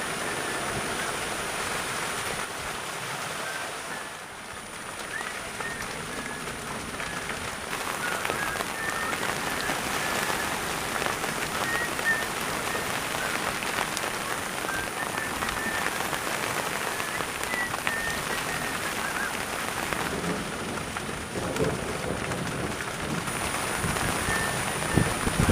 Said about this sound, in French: Ça continue à pleuvoir. Ah, sacré orage.